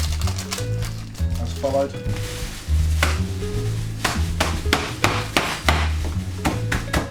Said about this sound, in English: So the first thing you need to do is smash the shortbread up